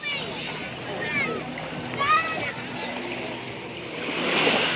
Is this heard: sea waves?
yes